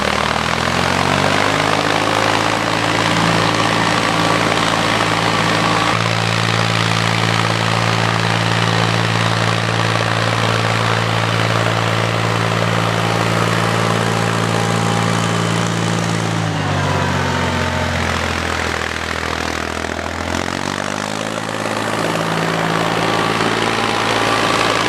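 A tractor pulls a disc harrow through a clover food plot, its engine a loud steady droning hum close by, shifting pitch midway and again near the end.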